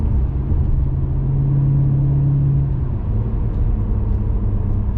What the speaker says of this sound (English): Keeps the gears at a higher RPM, so I get to hear more of that engine noise